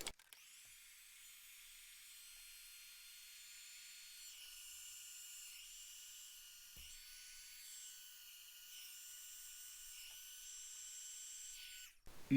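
Steady high-pitched whirring hiss of a heat gun shrinking heat-shrink tubing over a crimped cable end, holding constant for about twelve seconds with slight shifts in tone, then cutting off.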